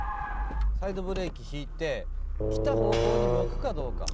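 A car pulling an e-brake 180-degree turn with tires skidding and squealing, a sustained screech rising over engine noise while someone talks throughout.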